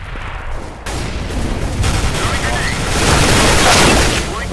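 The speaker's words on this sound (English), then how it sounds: "Grenade out." A grenade blast in CS:GO with team voice chat, a loud broadband burst rising near the end amid continuous gunfire and rumbling booms.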